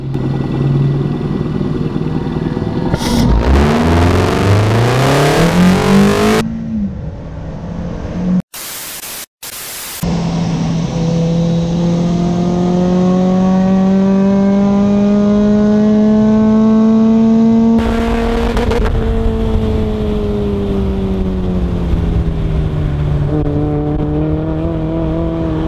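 A Mazda Miata with individual throttle bodies and paddle shifters screams around a race track, its engine rising in pitch through gears with shifts and a brief cut, loud and harsh over heavy wind noise.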